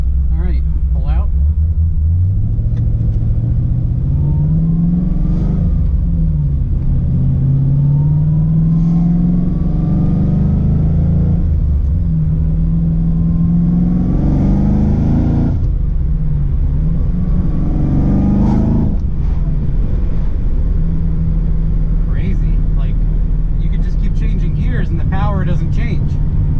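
A Nissan G35 fitted with an LSA engine pulls away with a deep, loud rumble, rising and falling through several revving gear pulls. Speech is picked up faintly over the engine.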